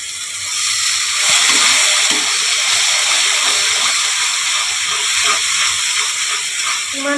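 Water poured into a hot pan of ground almond and cashew paste for potato curry, giving a loud, continuous broad hiss of steam and sizzling that holds steady throughout with no talk.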